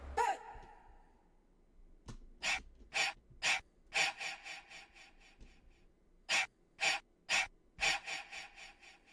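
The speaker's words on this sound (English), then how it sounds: "He makes a hey sound and then makes breathing sounds afterwards." Rhythmic breathy gasps and exhales from a character in the Incredibox Deep Blue mod, arriving in two quick bursts of four or five sharp puffs each over a faint background, with no talk.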